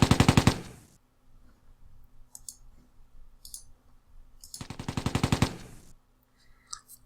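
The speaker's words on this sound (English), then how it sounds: "Not much of an effect, so I use my machine guns." Tank machine guns in the game Tigers on the Hunt fire two loud, rapid bursts of evenly spaced shots, one at the start and one near the middle, with faint clicks and quiet gaps between.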